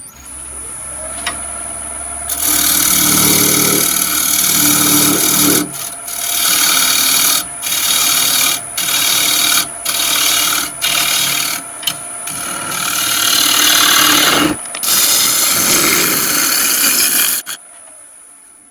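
A wood lathe turns a maple piece while a tool cuts into it, giving a loud, close, continuous rasping hiss over a steady motor whine that breaks off briefly several times before stopping.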